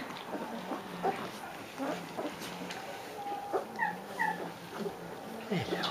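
Puppies nearly three weeks old whimper and yip in a cluster of short high cries, close and fairly quiet, with intermittent squeaks throughout.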